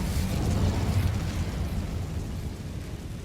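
Incendio fire spell in the video game Hogwarts Legacy: a loud, rushing burst of flame that roars at the start and fades into a low crackling rumble, with no talking.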